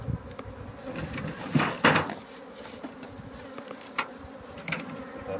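Honey bees buzzing around an opened hive during spring colony splitting, a dense continuous drone close to the microphone, with occasional soft knocks and clatters of hive handling.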